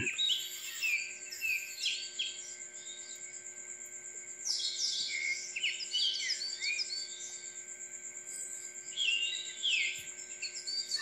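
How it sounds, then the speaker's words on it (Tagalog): Several birds sing and chirp in overlapping phrases at the Saint Padre Pio site in Batangas, against a steady high insect whine and a low constant hum. "At makakarinig ka dito ng mga huni ng ibon"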